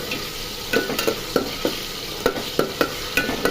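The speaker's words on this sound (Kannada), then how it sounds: "ಇದಕ್ಕೆ ನಾನೀಗ ಶುಂಠಿ ಪೇಸ್ಟ್ ಹಾಕ್ತಾಯಿದ್ದೀನಿ" Ginger paste goes into a hot pan for village-style chicken curry, with a soft steady sizzle broken by repeated sharp spoon taps and scrapes against the pan at a loose, uneven rhythm.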